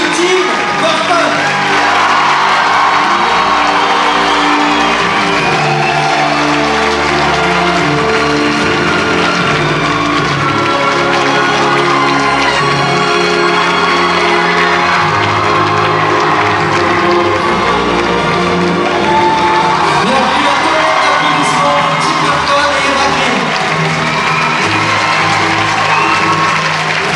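A premiere audience at Le Grand Rex in Paris applauds and cheers Eva Green and Tim Burton, with loud, continuous clapping, whoops and shouts filling the hall for the whole stretch.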